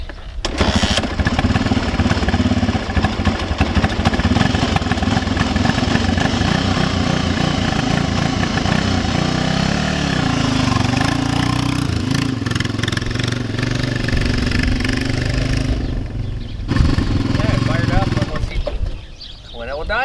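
An old Honda tractor engine runs cold, a steady loud mid-pitched drone that idles unevenly for about twenty seconds outdoors, with a brief dip near the end.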